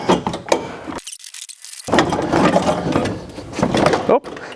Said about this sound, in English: let's go ahead and remove the bumper. Now, I do want to note, it's not going to just slide out gracefully. You might need to wiggle it back and forth.